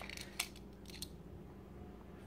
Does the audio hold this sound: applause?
no